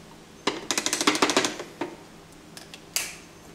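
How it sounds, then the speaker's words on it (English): A spoon clinks rapidly against the glass of a coffee press while stirring coffee, a quick run of bright metallic taps followed by a few scattered clinks in a quiet room. "we'll give it a stir for about 5 to 10 seconds"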